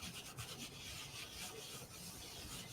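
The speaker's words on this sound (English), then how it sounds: "So I'm just going to clean this with some stamp cleaner and my Stampin' Scrub." Rubber stamp scrubbed back and forth on a damp stamp scrub pad with stamp cleaner, a steady continuous rubbing and scratching close up, with no talking.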